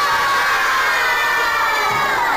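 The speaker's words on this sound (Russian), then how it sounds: "Новости пятидневки в 4-м В встречают восторженными криками." A class of fourth-grade schoolchildren at a lyceum erupts in loud, sustained shouts and cheers of delight, a dense crowd of young voices with no break throughout.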